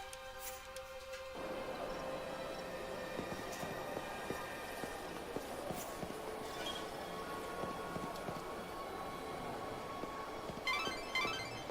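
A train idles and rumbles at a station in the video game Lightning Returns, with a steady mechanical drone, scattered metallic clanks and a brief rattle near the end. No voices are heard.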